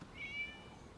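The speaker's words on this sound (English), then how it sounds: "It was just a cat." A cat meows once in a short, drawn-out cry inside the Genshin Impact video game, set against a soft, steady ambient background.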